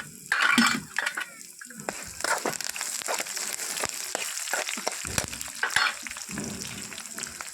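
Curry leaves sizzling and crackling in hot oil for tamarind pulihora, a village-style preparation, with bursts of frying hiss, stirring and small clinks, close and fairly steady.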